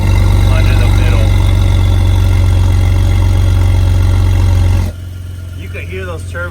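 A Ford Raptor's engine rumbles loudly and close, with a high turbo whistle running through the steady drone. The drone drops in level partway through, and a voice talks over it.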